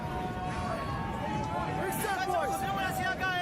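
A stadium crowd at a Canada versus Argentina rugby match rumbles as a steady, dense roar that swells slightly louder, with a commentator talking over it throughout.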